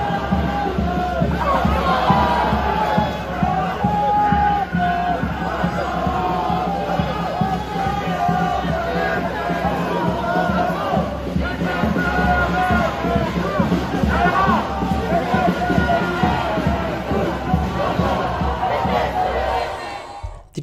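A large protest crowd at a riot in France after Le Pen's victory, with a continuous roar of shouting, chanting and babble at steady loudness and occasional louder whoops.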